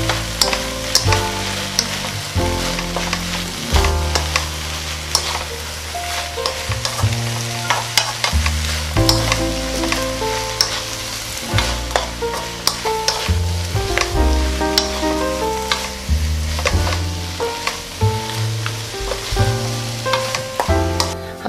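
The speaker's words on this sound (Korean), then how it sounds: "맛있게 잘 볶아졌어요" Dried vegetable namul stir-frying in a pan with perilla oil, a steady sizzle broken by frequent scraping and stirring strokes, close and continuous with no talking.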